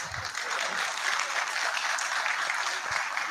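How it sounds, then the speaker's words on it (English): Sustained applause from an audience at a Garissa Township MP debate in 2022, a dense, steady clatter of many hands filling the whole stretch with no break. "let's stop clapping so that we have a proper communication channel"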